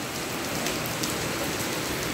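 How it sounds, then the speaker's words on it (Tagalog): Heavy rain pours down steadily in Legazpi City, Philippines, a dense constant hiss of drops on surfaces with no voices. "Ayun, lakas ng ulan. Walang tigil."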